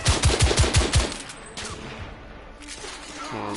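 Rapid automatic gunfire from The Order: 1886 video game, a loud close burst of about eight evenly spaced shots, then quieter distant combat noise and a short mechanical rattle at the end.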